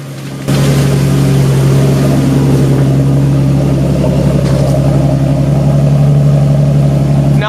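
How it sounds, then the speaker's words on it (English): A 2008 Ford Mustang V6 exhaust kicks in after a brief pause and holds a deep, steady, close-up rumble at roughly constant revs, with no voices. "check out that exhaust."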